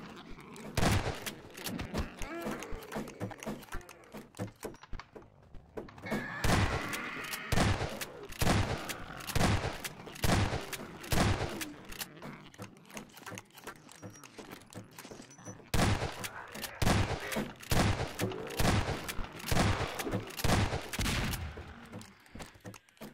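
Shotgun gunfire in the video game Garry's Mod, a dense series of loud, sharp blasts fired in quick bursts with brief pauses, close and dominant, with no talk over it.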